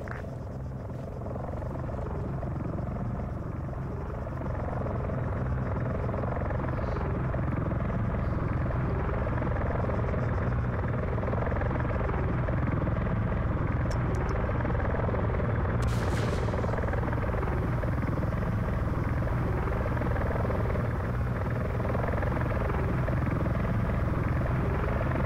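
A helicopter in the video game Arma 3 drones with a loud, continuous rotor thump and turbine whine throughout, with a brief higher burst around the middle and no talk.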